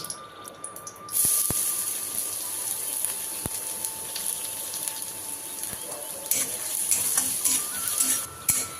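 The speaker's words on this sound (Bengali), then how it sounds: "আবারও আমি তেল দেব তেলের মধ্যে ছেড়ে দেবো আমি গাজর" Carrots dropped into hot oil and frying, a steady sizzle and stir noise that swells after about a second, with sharp clicks and clatters from the pan throughout.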